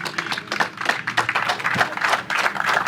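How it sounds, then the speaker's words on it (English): A small crowd at a fishing tournament weigh-in claps in a dense, steady round of applause lasting several seconds, with no talking over it. "Let's give them a round of applause,"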